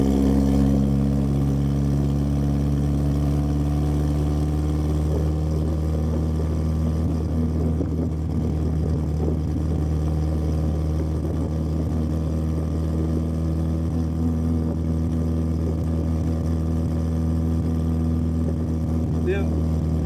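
An open-top classic car, running rough, drones with a steady low engine note while driving on a summer morning, continuous throughout with wind rush and no break in the rumble.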